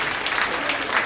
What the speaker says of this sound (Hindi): तालियों से उत्साहवर्धन करते रहें।